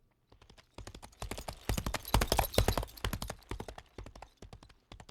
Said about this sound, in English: let's audition our horse. It's looping,